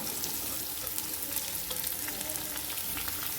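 Onion sautéing in a hot pan with asafoetida nearby, a steady close sizzle and crackle of frying with occasional stirring scrapes, continuous and alone without talk.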